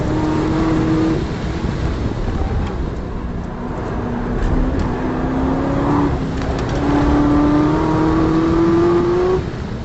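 A stock 2013 Chevrolet Corvette ZR1 accelerates hard on a racetrack, its engine note climbing steadily through the gears with a brief shift dip, loud and close throughout with no talk.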